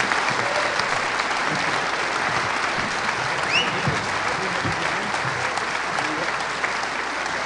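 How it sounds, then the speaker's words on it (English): Audience applause at a 2018 gubernatorial candidates' forum, a sustained even roar of many hands clapping for the full stretch, moderately loud with no break. "Let's give them a round of applause, everybody."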